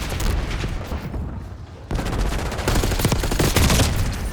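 Rapid automatic gunfire in the video game Call of Duty, set in a snowy battle, loud and dense bursts of shots with booming blasts that briefly drop off, then resume even heavier.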